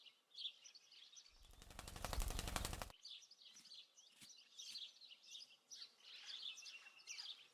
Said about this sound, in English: It's a very real-looking bird.